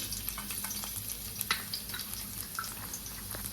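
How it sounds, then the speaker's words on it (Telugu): Thinly sliced garlic frying in oil in a pot on the stove, giving a steady, close sizzle with soft crackles and light bubbling pops for several seconds, no voices. "ఆయిల్ అయితే వేసుకున్నానండి ఫ్రైకి సరిపడా ఇందులో సన్నగా కట్ చేసుకున్న వెల్లుల్లిపాయలండి"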